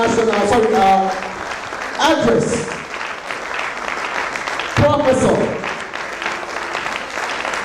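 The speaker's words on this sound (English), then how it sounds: "with a standing ovation, please put your hands together for the national president of the Dietitians Association of Nigeria" A standing ovation for the national president of the Dietitians Association of Nigeria at its 15th national conference: broad, continuous applause that swells and eases while a voice talks over the hall.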